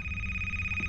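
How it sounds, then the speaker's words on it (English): A telephone in the video game A Place Forbidden rings steadily inside a building, its single bright electronic tone holding on through the whole brief moment over a low hum, with no talk. "there was a phone ringing in a building that I woke up inside of"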